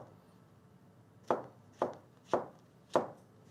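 Four separate knife strikes on a cutting board as vegetables such as mushrooms and peppers are cut into similar-sized pieces, slow and evenly spaced, close and crisp in a quiet kitchen.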